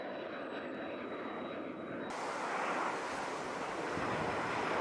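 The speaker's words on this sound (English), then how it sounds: "The Honda Jet is a light business jet known for its advanced engineering and distinctive over-the-wing engine mount design." A HondaJet light business jet with over-the-wing engine mounts gives a loud, steady turbine roar that swells and grows brighter after about two seconds, with a thin whine audible early on.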